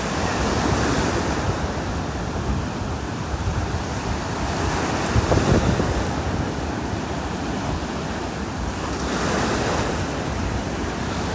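Steady wind buffets the microphone on a cloudy beach in North Naples, Florida, with surf rolling underneath in a continuous loud wash and no voices.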